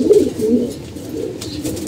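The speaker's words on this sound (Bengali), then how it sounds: "এই যে আমাদের 1 জোড়া কবুতর" A pair of pigeons coo close by in low, rolling throaty murmurs that come in soft repeated waves.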